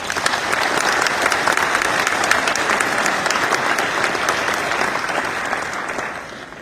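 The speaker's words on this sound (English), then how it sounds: "I think we should give this class another round of applause" A crowd at a 2025 graduation ceremony gives the graduating class a round of applause: dense, sustained clapping that holds steady and then begins to taper off at the end.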